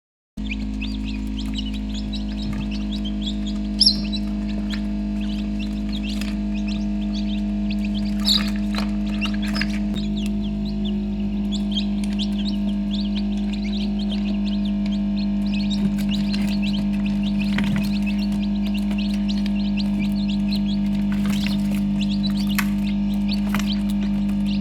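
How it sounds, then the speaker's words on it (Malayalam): Native chicken chicks peep and cheep in scattered high calls with occasional clucks, spread over a steady low electrical hum from an incubator, close and continuous throughout. "ഞാൻ എല്ലാ പ്രാവശ്യവും നാടൻ കോഴിക്കുഞ്ഞുങ്ങളെയാണ് വിരിയിക്കാറ്"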